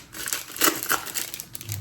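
The crinkly foil wrapper of a 1991 rock and metal trading card pack crumples and tears open up close, a short burst of rustling lasting under two seconds.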